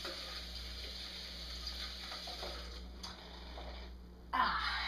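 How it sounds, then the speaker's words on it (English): Tap water running steadily in a kitchen sink while hands are washed, a constant close hiss with a brief louder splash near the end. "wash off our hands really quick."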